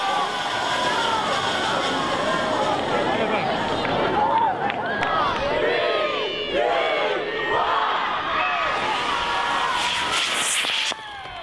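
A large, dense crowd of students, teachers and spectators fills a school playground at a model rocket car world record attempt, a continuous roar of overlapping voices, shouts and excited cheers held steady throughout, with a brief dip at the end.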